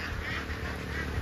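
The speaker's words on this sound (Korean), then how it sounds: "와, 오리 엄청나게 많네" Flock of ducks in a rice paddy in rural Myanmar, many birds quacking continuously together in a dense, close chorus.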